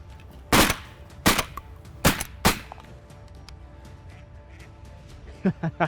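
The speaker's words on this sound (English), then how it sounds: "Shoot that drake, Dill." Four loud shotgun blasts ring out in quick succession at mallards over a South Dakota cornfield during a duck hunt, followed by a few fainter sharp pops at the end, with people talking.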